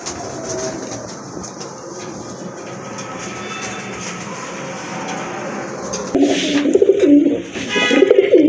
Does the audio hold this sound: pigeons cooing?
yes